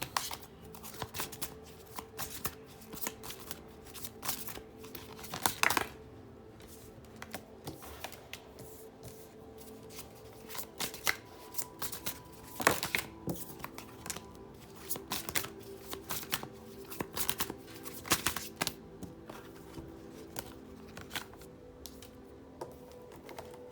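Tarot cards being shuffled by hand, a steady run of crisp riffling and slapping card sounds, close and fairly quiet, with no talking.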